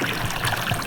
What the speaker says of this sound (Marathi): आपल्या भुईमुगामध्ये पाणी चालू केलेलं आहे आपण